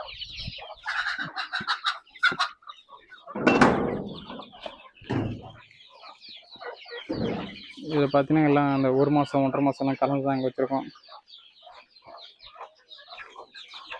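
Native country chickens cluck and call around a poultry farm pen with a mother hen, steady bird chatter running throughout while someone talks over it, with a louder burst of squawking in the middle.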